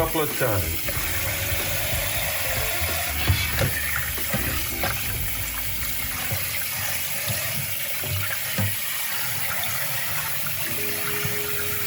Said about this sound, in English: I just pick up a handful and I run them in the water and I squeeze them a little bit and I put them in there.